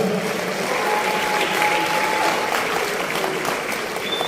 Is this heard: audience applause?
yes